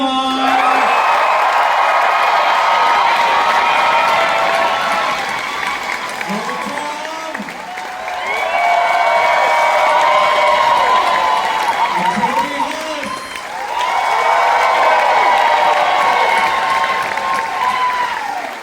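A large live convention crowd at a King of the Hill panel cheers, whoops and applauds in three long loud swells, with a presenter's voice audible between and over them.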